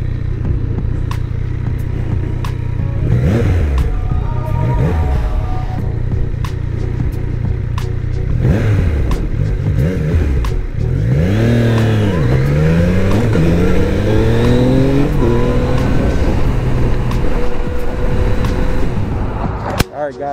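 A brand new 2020 KTM 500 motorcycle engine revs loudly and close for a long stretch, with repeated rising and falling throttle sweeps over a steady rumble, a voice talking underneath at times.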